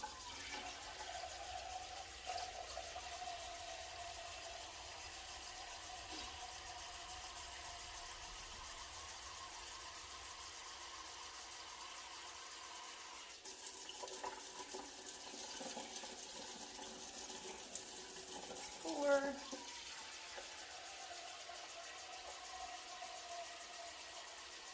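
Tap water runs steadily and faintly into a pot in a home kitchen, a soft continuous rush with a brief clunk near the end and no talking.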